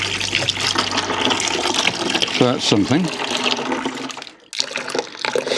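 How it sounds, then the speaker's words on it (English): Water gushes and splashes steadily as it rinses out of a Moto Morini 3 1/2 Sport motorcycle fuel tank, a continuous close wash of liquid with someone talking over it and a brief dip near the end. "water's coming out clean now."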